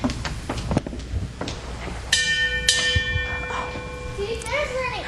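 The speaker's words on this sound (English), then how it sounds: "Ring the bell, Sue." A hand bell rung at home: two bright, ringing strikes about half a second apart, each with a long metallic shimmer that fades slowly, after a few softer knocks and under faint background voices.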